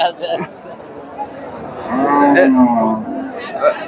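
Cattle low at a crowded market for Shahiwal and crossbred pregnant cows in Sirajganj, a long rising moo in the middle with fainter calls, over a steady hubbub of people talking.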